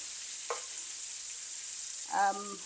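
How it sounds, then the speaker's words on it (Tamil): Pineapple pieces toast in oil in a pan, giving a soft steady sizzle at low volume, broken by a light clink early on and a brief tonal squeak near the end. "இந்த அன்னாசி பழங்களை நான் இதில் சேர்க்குறேன் இப்போ அன்னாசி ரொம்ப ஃப்ரை ஆகணும் அவசியம் இல்லை நான் கொஞ்சம் அந்த எண்ணெயில் கொஞ்சம் டோஸ்ட் பண்ணுறதுக்காக சேர்த்துருக்குறோம்"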